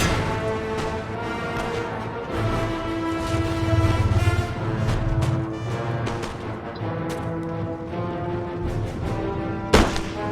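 Heavy cannon fire from Napoleon: Total War booms continuously over droning background tones, ending with one sharp, loud blast.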